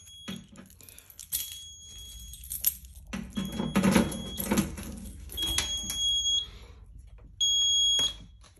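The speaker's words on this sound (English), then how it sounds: "There you go, it's acknowledged." A Notifier SFP-1024 fire alarm control panel beeps its trouble tone in bursts between keys jangling and panel handling, the electronic chirps cutting out and returning near the end.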